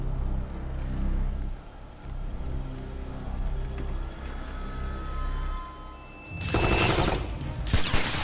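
Animated gunfire from a Winter Soldier versus Red Hood battle: a dense rattling fusillade erupts in the final seconds, loud and close, after quieter background rumble and whooshing effects.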